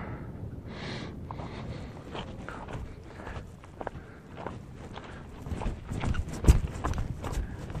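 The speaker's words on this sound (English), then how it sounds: "It's okay, mountain goat. You don't have to run away from me." Mountain goat hooves clatter and scuff over rock in an uneven patter as it runs, fairly distant, against steady outdoor background noise.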